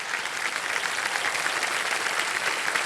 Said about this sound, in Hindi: बहुत बहुत बधाई, तालियां बजती रहें इनके लिए।